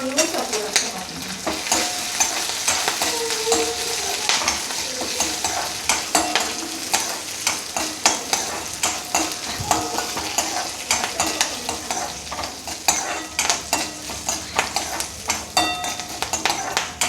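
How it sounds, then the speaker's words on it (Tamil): Mint chutney ingredients and three green chillies fry in a pan with a steady, busy sizzle, while a spoon stirs and scrapes against the metal throughout. "இப்போது எல்லாமே நல்லா வறுபட்டுருது."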